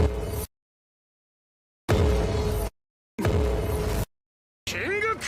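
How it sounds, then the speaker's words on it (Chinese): King Crimson stand activation effect from the JoJo anime: three dense, harsh bursts of layered distorted noise separated by silence, then a shorter burst with rising and falling electronic sweeps, loud and with no talk. "绯红之王的发动音效。"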